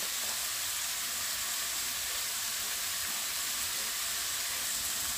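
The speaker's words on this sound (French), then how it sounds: "on va maintenant venir déglacer le tout avec le jus d'un demi-citron" Mushrooms deglazed with half a lemon's juice in a hot pan give off a loud, steady hiss and sizzle that holds evenly throughout, with no voices.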